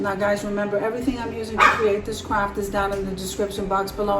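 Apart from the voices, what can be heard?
dog barking while playing in the background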